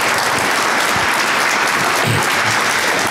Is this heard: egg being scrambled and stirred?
no